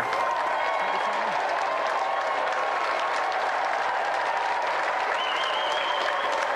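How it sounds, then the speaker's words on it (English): Studio audience applauding and cheering for the winning challenger on a video-game TV show, steady broadband clapping that holds loud for several seconds with a few voices calling out. "So let's have another round of applause for the triumphant challenger"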